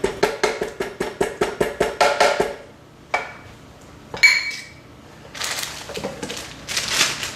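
A quick run of sharp clinks and clatters as ginger, chopped onion and garlic drop into a glass blender jar, followed by a few scattered knocks and rustles.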